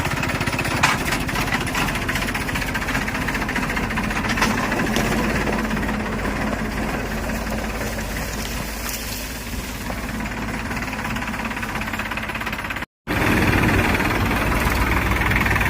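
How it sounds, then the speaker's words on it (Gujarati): A tractor engine runs continuously with a loud, rough, rattling drone, close by, with one brief cut in the sound. "હાલો ટ્રેક્ટર ઉપાડ્યું આપણે"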